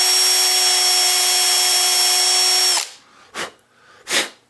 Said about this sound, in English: I'm pretty confident in my ability to drill a small straight hole.